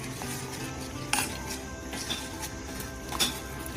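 Melted jaggery poured into a pot of rice pudding and stirred, a faint, steady simmering bubble with a few light spoon clicks against the pan, close but quiet.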